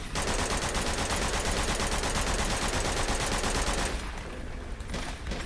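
MP40 submachine gun fire in Uncharted 2: loud, continuous rapid bursts of automatic shots for several seconds, easing off near the end, with no talk.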